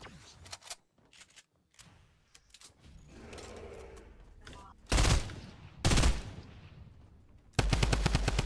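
Rapid gunfire bursts from the video game Fortnite: a few scattered shots early on, then two loud sharp bursts and a sustained burst of automatic fire at the end, with quieter game sounds in between.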